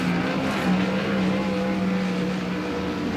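A race car laps the Port Royal dirt racetrack during the Tuscarora 50, its engine a steady, loud droning whine that holds a sustained pitch for the whole stretch, with no voices over it.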